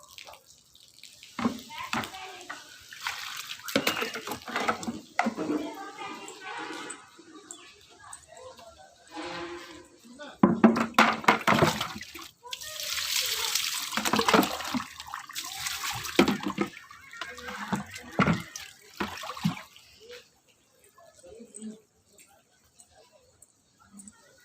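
Water is poured and splashed in bursts while pkuti curry cooks in an Odia home kitchen, loud pouring in the middle, with people talking between the splashes.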